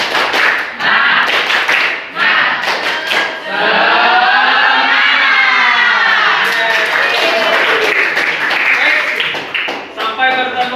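Schoolchildren in an Islamic religious education classroom perform a rhythmic clap chant, loud and close, with bursts of claps mixed into shouted group chanting and voices throughout.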